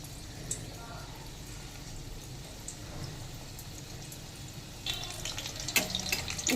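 Batter-coated topshe fish frying in hot refined oil, a low steady sizzle that turns brighter and crackling as more pieces go in near the end, heard close.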